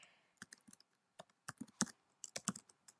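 Someone types a sudo chown command on a computer keyboard in a quiet room: irregular bursts of crisp key clicks, some sharper taps among lighter ones, near and alone.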